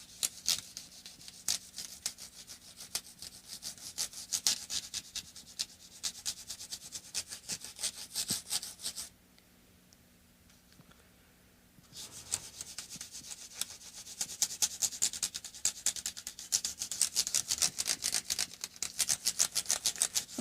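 Hand sanding of guitar frets on an Epiphone Chet Atkins with 800 grit sandpaper, a close, steady scratchy rubbing in quick strokes that stops for a few seconds midway and then resumes.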